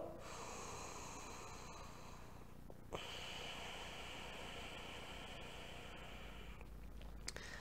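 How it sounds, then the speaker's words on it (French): Ujjayi yoga breathing, a soft hissing breath drawn through a constricted throat, sounds faint and airy in long sustained strokes, with a clear shift between inhale and exhale partway through. "gardez votre attention maintenant sur le son de cette respiration Ujjayi"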